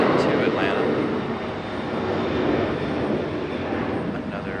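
A Delta jet airliner roars steadily at Raleigh-Durham airport, a broad, loud engine rumble filling the scene, with a voice talking over it.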